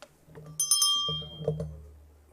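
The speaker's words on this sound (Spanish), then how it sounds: "Hay que tocar la campana." A small bell rung a few times during a committee session on water resources, giving bright, clear metallic chimes that ring out and fade in a quiet room.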